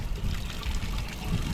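Water trickles steadily from the tell-tale outlet of a boat engine, a close, low splashing dribble running continuously over a short stretch.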